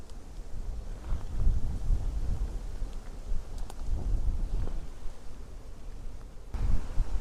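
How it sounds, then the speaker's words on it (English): Steady wind buffets the microphone with low rumbling gusts throughout, a constant blustery roar outdoors during a Minnesota turkey hunt, with no voices. "It's really fucking windy out here"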